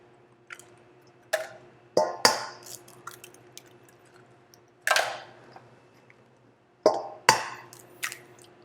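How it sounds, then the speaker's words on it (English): Eggs are cracked one after another into a bowl, each a sharp close tap followed by a soft wet drop, in a sparse irregular sequence against quiet background hum. "Crack your eggs."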